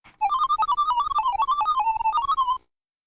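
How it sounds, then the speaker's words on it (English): A Commodore 64 alien sound effect: a warbling electronic tone hops rapidly between pitches in a busy, chirping pattern, loud and steady with no voices. "sounds rather like a futuristic computer crunching numbers on the original Star Trek"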